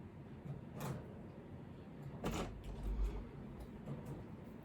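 A door is opened, heard as a couple of short, muffled thumps and a sliding clunk over a quiet room hiss.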